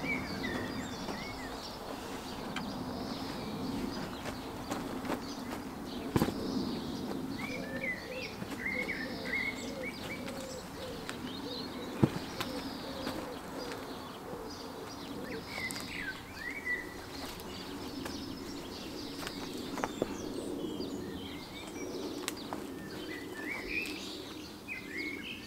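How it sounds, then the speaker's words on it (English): Several birds chirp and sing in a UK garden, varied calls rising over a steady soft background hum, moderately near, with occasional faint knocks and no talking. "Just enjoy the bird song."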